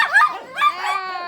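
Several Shih Tzu dogs yap and bark in a quick, close burst of high, whiny barks, with a couple of overlapping yips and a short whimpering tail.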